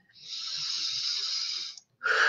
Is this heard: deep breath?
yes